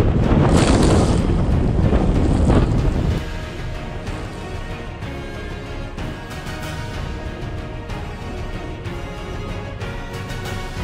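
Gusting wind of up to 40 knots roars across a sailboat at sea, a loud buffeting rush heaviest at first, then a steady blustery noise with water sloshing beneath, and no voices.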